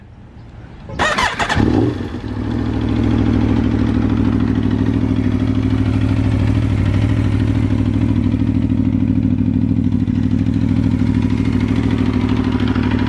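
An Aprilia RSV4 Factory superbike is warm-started close by with a brief cranking burst, then its engine settles into a loud, steady, even idle that runs without a break.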